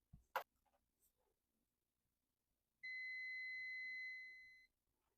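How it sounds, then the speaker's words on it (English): A multimeter on continuity mode gives a single clean, steady electronic beep lasting about two seconds as its probes touch the metal sleeve and tip of an incandescent bulb, preceded by a sharp click of probe contact in a quiet room. "So if it beeps, the bulb is good and your lamp socket is the problem."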